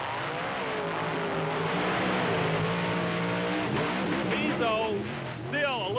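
Monster truck engines roar and rev at full throttle during a race off the starting line and over jumps, loud and continuous, with rising and falling pitch sweeps as the trucks accelerate, under an announcer's commentary.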